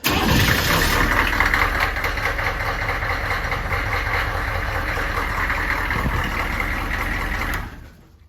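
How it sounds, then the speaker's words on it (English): An HMMWV diesel engine, fitted with new glow plugs, starts cold and settles into a loud, steady clattering idle close by before shutting off near the end, with no talking. "The truck obviously cold starts a lot better."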